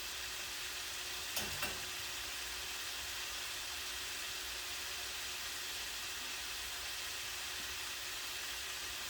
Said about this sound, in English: And our wings are frying and we're off.